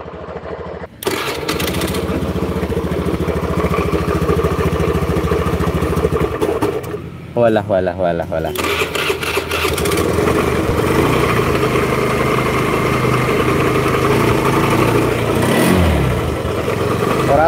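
A motorcycle engine with a freshly overhauled motor kicks into life after a short pause and keeps up a loud, close, throbbing run with a couple of revving surges, while someone talks over it.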